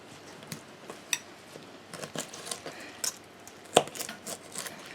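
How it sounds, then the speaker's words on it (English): A knife chops the roots off the bottoms of wild ramp bulbs, a leek-family plant, giving soft irregular cutting taps and thuds, close and fairly quiet, spread over a few seconds with no talking. "First thing I'm going to do is just chop off all the roots off the bottom of the bulbs."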